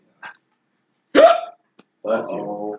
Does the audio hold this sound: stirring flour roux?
no